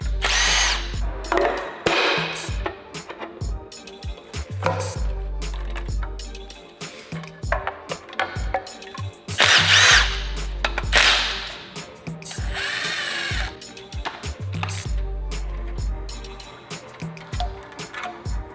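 A power tool works on an engine timing cover, with repeated loud bursts of whirring drill or impact driver spin separated by short pauses and clanks of handling.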